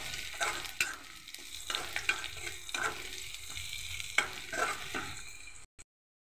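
Garlic, onion, dried red chillies and green chillies fry in hot oil in a pan, a steady close sizzle broken by repeated scraping stirs, ending abruptly in silence.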